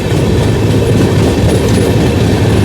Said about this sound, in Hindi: हमारी ट्रेन में स्पीड धीरे धीरे पकड़ रही है